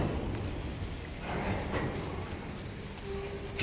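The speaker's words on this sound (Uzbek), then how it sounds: "Tepamizda poyezd o'tyapti." A train rolls across a bridge directly overhead, giving a loud continuous rumble with rhythmic wheel clatter that rises and falls as the wagons pass.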